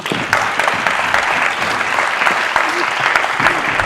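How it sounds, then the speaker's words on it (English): A festival audience in Amsterdam applauds steadily for a craft talk's guest speakers, a dense, even wash of many hands clapping close and loud for the whole stretch, with a brief voice rising faintly out of the crowd. "Give them a big applause."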